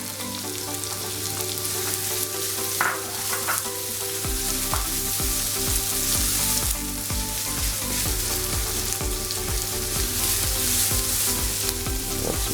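Garlic frying in a pan while cheesy baked eggs are made, a loud steady sizzle that carries on without a break, with some stirring clatter and no talk.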